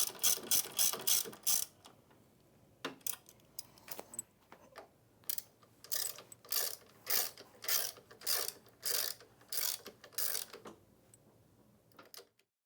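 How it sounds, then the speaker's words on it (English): Ratchet wrench tightening the main frame bolts on an IKON transfer roller, with rapid clicking bursts that repeat in bouts separated by short pauses, close and clear with no speech. "With your linkages now tight, you will now secure the main frame bolts."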